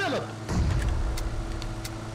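Car driving in the battle royale game PUBG Mobile during a chase, a fairly quiet engine hum with a surge partway through, faint chatter in the background.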